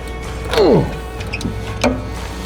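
In a garage, a person vocally imitates the torque noise of bolts being tightened on a car: a short, loud descending squeal, followed by a few faint metallic clicks and a brief second vocal sound.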